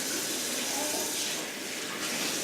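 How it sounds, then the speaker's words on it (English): Cold water from a tap runs steadily over a raw turkey in a kitchen sink, a continuous close hissing splash with no pauses. "I'm going to flip it over and rinse the other side."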